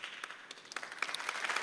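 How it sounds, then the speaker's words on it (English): Scattered clapping from a church congregation, a few hands at first and then steadily building into fuller applause over under two seconds, moderately distant in a large room. "That's a good place to clap"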